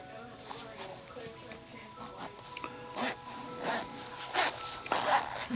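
Nylon knife case for the NedFoss Black Mamba has its zipper drawn open in a series of short, quiet rasping pulls that grow a little louder toward the end, with light handling noise around them.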